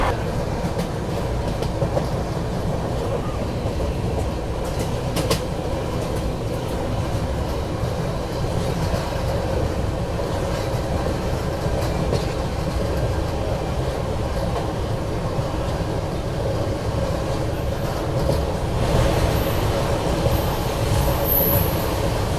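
A Chennai–Ektanagar SF express sleeper train running past Wadi Junction: a steady loud rumble of rolling wheels with clickety-clack on the rails and a brief squeal near the end, heard close from on board with no talk.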